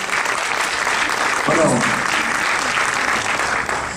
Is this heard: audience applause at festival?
yes